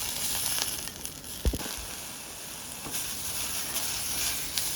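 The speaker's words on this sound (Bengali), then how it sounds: "আর আমি তেল দিয়েছি, এখন আমি ভেজে নিব" Oil sizzling steadily in a pan as dried fish is fried, a continuous close hiss with a few soft stirring knocks and scrapes, no voices.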